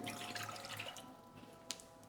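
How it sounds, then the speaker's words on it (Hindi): A cup of water poured into a cooking pot gives a faint, quiet trickle with scattered drips, then a single sharp clink near the end. "उसमें आपने डाल देना है 1 कप पानी"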